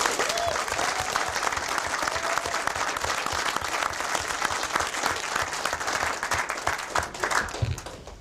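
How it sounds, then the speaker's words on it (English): A round of applause from a convention panel audience at a tabletop gaming weekend, many people clapping in a lively, slightly uneven patter that stays strong throughout before tapering at the very end. "Round of applause."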